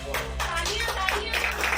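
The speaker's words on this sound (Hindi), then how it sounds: "उन्हें जोरदार तालियां एक बार" An audience claps steadily at a women's day stage event held by a foundation for daughters' development, welcoming a gold medal winner from Noida onto the stage. The clapping is dense and continuous, with some murmuring beneath it.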